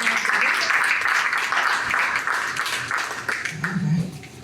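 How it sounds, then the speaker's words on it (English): Applause breaks out among the audience at a reparations committee meeting, a moderate wash of clapping that continues steadily before fading, with some voices in the room. "I think that's worth a round of applause"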